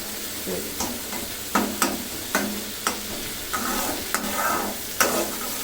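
A koi fish curry is stirred and fried in oil in a pan. A steady sizzle runs close throughout, with a series of scraping stirs at an even rhythm.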